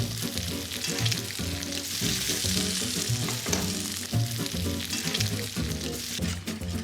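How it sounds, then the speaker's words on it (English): Bacon strips frying in a pan for savory stuffed French toast, a dense continuous sizzle and crackle with stirring and flipping noises, close and loud throughout. "Let's flip our bacon. Nice and crispy."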